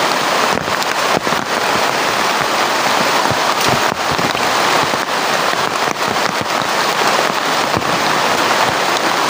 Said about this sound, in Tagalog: Napakalakas talaga ng ulan dito